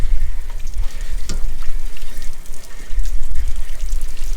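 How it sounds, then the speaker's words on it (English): Water sprays at pressure through an RV water heater tank during a flush and descale, making a steady loud rushing and splashing that runs throughout. "Stick it in there and go ahead and turn on the water."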